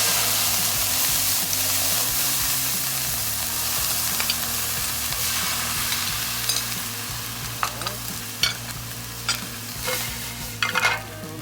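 Peppercorns sizzling in a hot pan, the opening step of a demi-glace sauce: a continuous close frying hiss with low hum underneath, and scattered scrapes and clicks growing more frequent toward the end.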